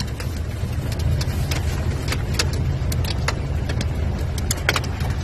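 Hail hammers a car roof and body in a steady, dense clatter during a sudden storm, with sharp louder strikes standing out over a constant low rumble heard from inside the vehicle.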